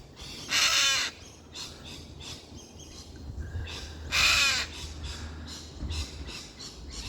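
A bird attacking a climber on a rope squawks in loud, harsh bursts, two strong caws standing out among shorter calls over faint background noise.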